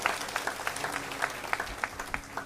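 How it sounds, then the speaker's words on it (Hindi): Scattered, fairly faint hand clapping from a rally audience welcoming politician Abhay Singh Chautala, with uneven claps rising and falling for a couple of seconds and no voices over it. "एक बार जोरदार तालियों से श्री अभय सिंह चौटाला जी का स्वागत करें"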